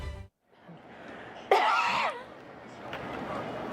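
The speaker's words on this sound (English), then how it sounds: "Was that a cough?" A single sharp cough bursts out mid-clip in a quiet indoor setting, brief and close, with faint background murmur before and after.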